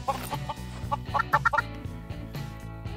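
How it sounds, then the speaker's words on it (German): Chickens in the Minecraft video game cluck in a series of short, bright bursts, clustered densely mid-clip and spaced out toward the end, over a continuous game background. "Hühner"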